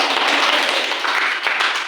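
A classroom of third-grade pupils claps hands together in a dense, continuous burst of applause lasting about two seconds, fairly loud and steady with no talking over it.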